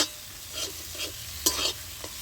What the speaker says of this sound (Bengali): মশলাটা আমার ভালো করে এখানে কষাতে হবে